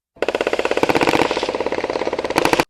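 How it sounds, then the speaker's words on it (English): A rapid burst of sharp mechanical clatter, fast and steady for over two seconds: a suppressed .22 with a conversion bolt firing subsonic ammunition close by. "that's how quiet a conversion bolt, subsonic 22 ammunition, and a suppressor is"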